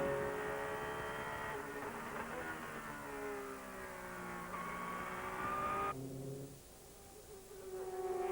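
GT race cars at Japanese GT 2002, among them a Mosler 900 GT, roar past in traffic, engines rising and falling in pitch as they pass and fade, with another car approaching loudly at the end.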